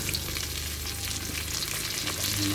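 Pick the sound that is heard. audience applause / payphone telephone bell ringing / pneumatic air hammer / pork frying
pork frying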